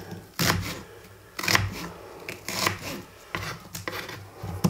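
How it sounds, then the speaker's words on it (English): A knife roughly chops onions on a cutting board, cutting them in half and across, in short, sharp bursts of several quick strokes separated by pauses. Close and clear, with no talking over it. "onions need to be roughly chopped, so I cut them in half, cut them that way"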